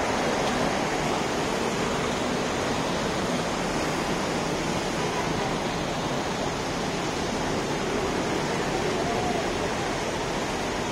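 Steady, broadband rush of a clean river flowing under a cloudy sky, continuous and even in level with no breaks.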